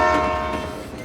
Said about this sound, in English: All aboard the train to Gainesville!